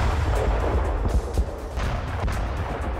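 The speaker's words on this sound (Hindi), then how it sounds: "वॉर जोन से रूसी हॉइट्जर का एक्शन वीडियो सामने आया है।" Russian howitzer artillery firing in a war zone, a dense, loud stretch of booming blasts and rumbling impacts with sharp cracks at irregular intervals over continuous low roar.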